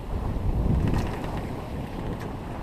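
Wind of 15-20 knots buffets and roars across a sailboat moving at 5-6 knots, a rough continuous gusting with washing water beneath.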